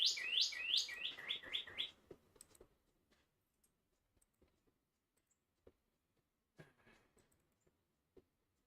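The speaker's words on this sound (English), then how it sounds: "I hear the bird." A bird chirps a quick rapid series of about six bright, sweeping notes at the start, then quiet with scattered faint clicks and taps and a brief soft murmur.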